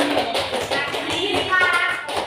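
A brief burst of classroom clapping in an Indonesian language lesson, quick and close, with students' voices mixed in.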